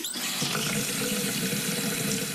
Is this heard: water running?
yes